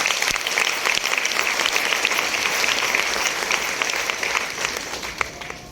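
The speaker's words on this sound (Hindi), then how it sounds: "मैं चाहती हूँ कि इनके लिए एक जोरदार तालियां हो जाए।" An audience at a stage event gives loud, sustained applause, an even roar of many hands clapping for several seconds without a break before it gradually tapers off.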